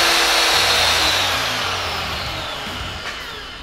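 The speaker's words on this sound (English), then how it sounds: "My drill's running." A Magswitch magnetic drill's motor runs with a loud, steady high-pitched whine and broadband hiss that slowly fades in level over several seconds, with no talk.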